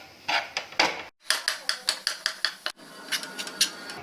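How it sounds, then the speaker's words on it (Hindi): A steel ladle chops and scrapes through eggless besan bhurji in a pan, a brisk series of close metallic clinks and taps in quick rhythm, briefly pausing twice. "अब इसे स्टील की कड़छी के साथ ऐसे कट करते जाइए ताकि ये भुर्जी जैसा दिखे।"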